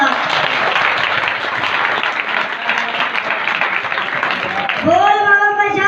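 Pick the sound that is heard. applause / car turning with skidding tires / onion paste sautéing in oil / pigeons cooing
applause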